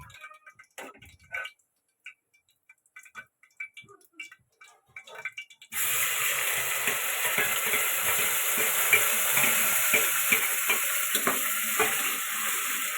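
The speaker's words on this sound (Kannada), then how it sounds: "ಇದಿಷ್ಟು ಆದಮೇಲೆ ಇದು ಫ್ರೈ ಆಗಬೇಕಾ? ಇದು ಫ್ರೈ ಆಗಬೇಕು." Onion paste with coriander for sambar hits hot oil after a few quiet taps and clinks, then a loud, continuous sizzle takes over close up and runs on steadily.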